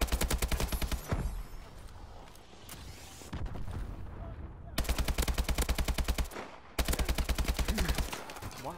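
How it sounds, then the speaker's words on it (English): Rapid automatic gunfire in a video game fires at an enemy in long, loud, evenly spaced bursts. Brief gaps filled with rumbling impacts break up the bursts. "I'm shooting him"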